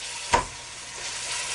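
Ground beef, starting from a frozen block, browns in a pan with a soft steady sizzle and one sharp scrape or clank of a utensil near the start.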